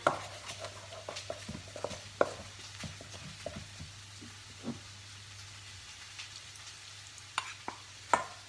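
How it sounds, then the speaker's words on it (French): A spoon scrapes and clinks against a bowl while cornstarch is mixed with a little water, giving irregular close knocks and swishes over a low background hum. "Dans un saladier, vous mettez votre fécule de maïs. Vous mettez un peu d'eau. Vous mélangez bien."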